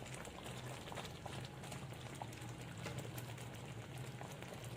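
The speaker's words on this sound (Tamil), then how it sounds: "காடை வேகும் போது தண்ணி விடும்" Steady soft bubbling and crackling of quail meat simmering in its own juices in a pot, continuous and low, with no voices.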